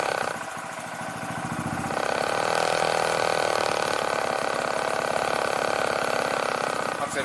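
A manual-transmission motorcycle engine runs close by, idling and then climbing to a steadier, louder drone after a couple of seconds.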